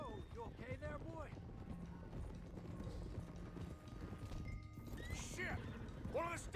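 A loose stallion whinnies several times amid clopping hooves and general commotion, with people talking over the scene.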